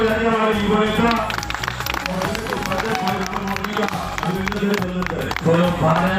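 Rally crowd in Chhindwara district applauding a young political leader: dense, sustained clapping and crowd noise at steady loudness throughout, mixed with tonal, music-like sound.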